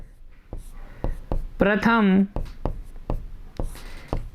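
A pen writes on paper as a teacher sets down the steps of a Class 10 geometry construction, with a rapid run of crisp, evenly spaced strokes and taps close by and a brief voice sounding in the middle.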